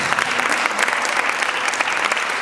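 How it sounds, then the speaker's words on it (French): A conference audience gives strong, continuous applause, a steady wash of many hands clapping with no one speaking over it. "Je voudrais simplement qu'on applaudisse vraiment très fort Christina Lundi"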